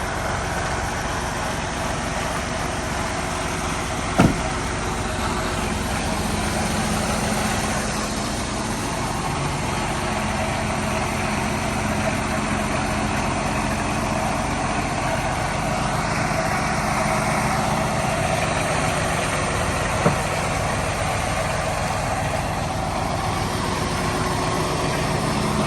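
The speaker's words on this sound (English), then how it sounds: "I'm going to idle up my truck." Class 1 truck engine idling steadily while warming up, a continuous loud low rumble with a constant drone and no voices, with a couple of brief clicks.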